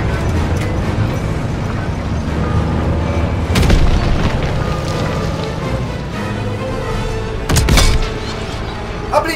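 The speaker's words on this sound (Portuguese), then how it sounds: "Panzer nos detonando pela direita!" Tank cannon fire and explosions in the World War II video game Call of Duty WWII, heavy booms over a constant loud rumble, with two sharp blasts standing out about four seconds apart.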